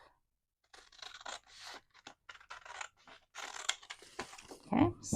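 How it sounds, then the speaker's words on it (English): Scissors snip and slice through paper while making simple envelope pockets, a close series of short crisp cuts and rustles with brief pauses between strokes. "And cut this side off."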